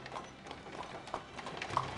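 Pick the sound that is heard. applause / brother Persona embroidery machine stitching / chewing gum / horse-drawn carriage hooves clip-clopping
horse-drawn carriage hooves clip-clopping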